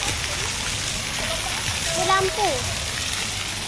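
Steady broadband rush of flowing water at a water feature fills the scene, with children and adults talking over it nearby.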